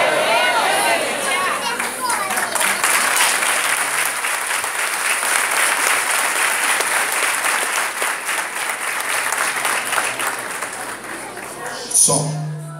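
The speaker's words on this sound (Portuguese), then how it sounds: "Se esse aplauso para Jesus tinha que ser mais forte" A church congregation at Igreja Jesus de Nazaré applauds for Jesus, long vigorous clapping with voices at the start and a few shouts in the crowd, swelling briefly near the end.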